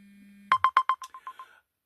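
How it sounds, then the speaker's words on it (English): A telephone rings: a low steady tone gives way to a quick run of about nine bright electronic beeps that fade out, clear against a quiet background. "there's a phone ringing"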